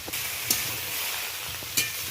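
Sliced ridge gourd frying in a pan with salt, a steady soft sizzle with two sharp scraping knocks as a spatula stirs it, close and without talking.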